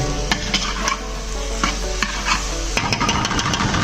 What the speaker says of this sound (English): we had to give it a quick stir